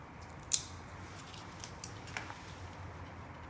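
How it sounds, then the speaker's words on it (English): Scissors snip off the end piece of a plastic cable tie during motorcycle accessory wiring, one sharp close cut followed by a few faint clicks in a quiet room. "I might have to just snip that end piece off because it's a little bit large"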